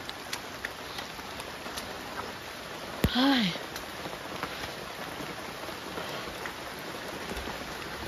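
Steady rain falls over a farm field where weeds and crops grow, a continuous soft hiss throughout, broken once near the middle by a brief exclamation.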